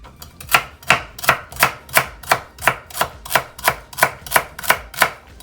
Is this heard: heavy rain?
no